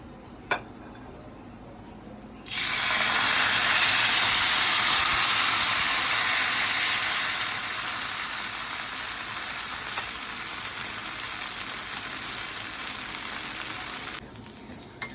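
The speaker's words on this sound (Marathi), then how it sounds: "आता आपला डोसा घालून घेते तवा छान गरम झाला आहे" Fasting-style dosa batter poured onto a hot oiled griddle bursts into a loud, bright sizzle that starts abruptly, then settles into a steady hiss before stopping near the end.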